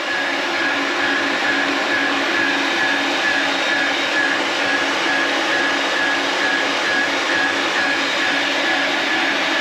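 A metal-cutting machine works on the damaged loader of a Deere 655K track loader, giving a loud, steady, unbroken mechanical whir and grind that holds close and constant throughout.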